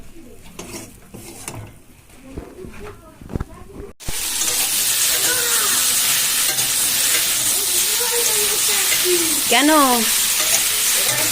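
Vegetables fry in a pan during a home cooking session with fenugreek greens, a loud steady sizzle starting partway through and running continuously after some quieter kitchen sounds, with a brief spoken word early on.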